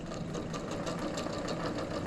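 A sewing machine stitches a quilt block onto a sweatshirt under the presser foot, a fast, even mechanical chatter running continuously at close range.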